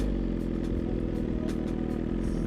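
A motorcycle carrying a rider and a passenger, its engine running at a steady close rumble with light mechanical clatter and no voices.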